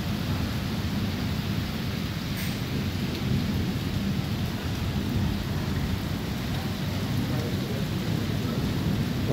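Heavy early-morning rain pours in Lahore, a steady, even hiss of downpour on surfaces with low rumbling thunder blended underneath, constant throughout and with no voices.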